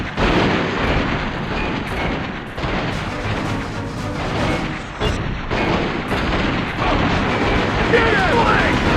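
Gunfire in Dead to Rights, a loud sustained barrage of booming shots and blasts packed closely together, with shouting voices mixed into the chaotic firefight.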